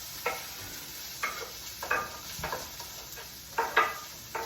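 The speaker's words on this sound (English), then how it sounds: "So we got onions going to the pan." Onions cooking in a frying pan, with a steady low sizzle broken by several short scraping and stirring clatters spaced a second or so apart, close by and fairly quiet.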